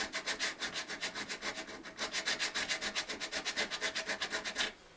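A metal file rasps back and forth on an acoustic guitar during a setup, a close, quiet rhythm of about two dozen quick, scratchy strokes with no talking.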